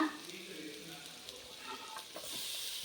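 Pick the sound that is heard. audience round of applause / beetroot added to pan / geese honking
beetroot added to pan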